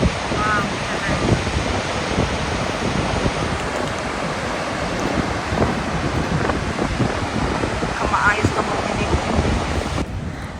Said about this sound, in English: Gullfoss, translated to Golden Falls, is one of the Iceland's most iconic and beloved waterfalls